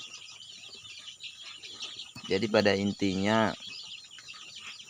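Young chicks of different ages, around eight to fifteen days old, peep continuously in a rearing pen, a thin high chatter that continues under someone speaking in the middle.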